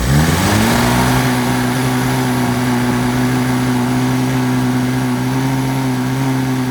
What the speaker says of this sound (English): that was nearly full throttle and it wouldn't even rev all the way up